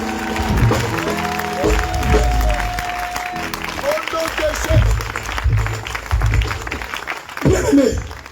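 A church congregation bursts into applause and acclamation for Jesus during a prayer service, loud sustained clapping mixed with shouting and cheering voices, while a preacher talks loudly over the noise.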